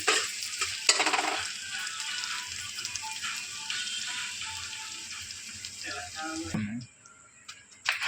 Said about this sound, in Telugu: ఇప్పుడు అల్లం వెల్లుల్లి పేస్ట్ వేసేసుకుందాం. ఇంకా కొంచెం పచ్చివాసన పోయే వరకు ఫ్రై చేసుకుందాం ఒక 2 నిమిషాలు.